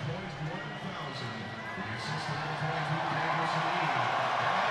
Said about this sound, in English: They announce it in the building, they cheer some more, and why not?